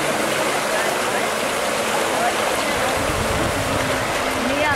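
Flowing water of a lazy river stream beside water slides at a Greek family resort, a continuous broad rushing wash with someone talking over it.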